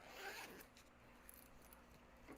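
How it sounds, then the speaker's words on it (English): A zipper on a sewn crossbody bag is undone in one quick, loud pull at the start, then quieter scraping and handling of fabric follows, with no talking. "You can undo your zipper again if you want."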